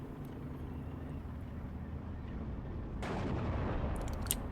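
Rocket fire from Hurricane aircraft in a World War II strategy game, Steel Division, sounds as a distant rumbling barrage that swells into a louder burst of impacts, over a low steady battlefield drone.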